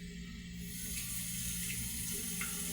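Tap water runs steadily into a sink or container for mixing puto batter, a constant close hiss and splash with no talk.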